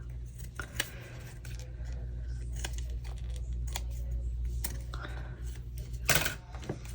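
Scissors snip into a glued paper craft piece, giving short, sharp cuts and crisp paper rustles at irregular intervals over a low steady hum, with one louder crunch near the end.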